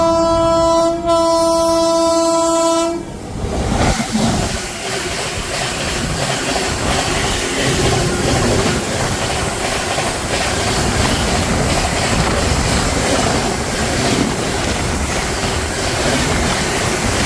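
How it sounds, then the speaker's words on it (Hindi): A passenger train's horn blares loudly for a few seconds, then the train rushes past close by in a sustained roar of wheels and clattering cars on the Delhi to Indore route. "बहुत दूर से आ रही है ट्रेन, अभी जैसे सामने आती है आपको दिखाते हैं।"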